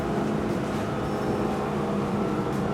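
Twin outboard engines of an Aquila 36 power catamaran run at full throttle, a constant loud roar blended with rushing water and wind, heard close and steady throughout with no one speaking.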